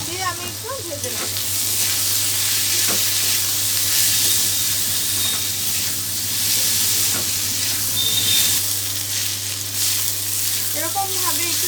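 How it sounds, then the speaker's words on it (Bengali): Red lentils fry in a pan with salt and turmeric, giving a loud, continuous sizzle with steady hissing and occasional stirring scrapes close by throughout. "আর এর মধ্যে আমি একসাথে অ্যাড করে দেবো স্বাদ মতো লবণ আর দিয়ে দেবো হলুদ, দিয়ে আমি একটু ভেজে নেব।"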